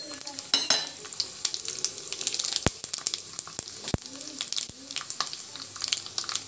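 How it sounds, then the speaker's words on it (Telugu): Mustard, cumin and fenugreek seeds frying in hot oil with dried red chilies for a tempering, giving scattered sharp crackles and pops over a quiet background sizzle, without speech. "ఇవి చిటపట్లాడిన తర్వాత కొద్దిగా కరివేపాకు వేసుకొని తాలింపు అయితే అయిపోయిందండి."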